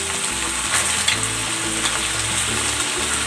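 Ingredients with soy sauce, sweet chili sauce and ketchup frying in a pan, a loud, steady sizzle with occasional stirring scrapes, close up and without talk.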